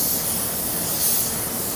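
Harbor Freight Black Widow 2.0 spray gun spraying paint at around 24 to 25 PSI: a continuous, close, even airy hiss with no talk, steady for the whole short stretch.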